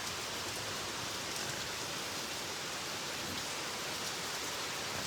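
Rain falls steadily at the Buddhapadipa Temple in London, a dense, even hiss that continues without a break for the whole stretch, with no voices.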